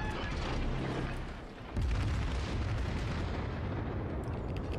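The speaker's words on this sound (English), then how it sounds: "Stop shooting me! It's rude." Warship guns firing in the World of Warships naval battle game, with heavy, booming rumbles and a dense, continuous wash of explosive noise, loud throughout with a brief dip before a fresh blast.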